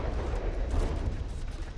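A steady, rushing roar of missile launches in the naval combat game From the Depths, dense low rumble with no distinct individual blasts, moderately loud throughout.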